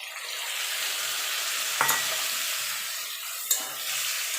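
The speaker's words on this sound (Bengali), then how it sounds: "এবার যে জলে মশলাটা করে রেখেছিলাম সেটা দিয়ে দেবো" Spiced water hitting diced potato and papaya frying in hot oil in a pan, a steady loud sizzle with two sharp clinks of a utensil against the pan, no talking.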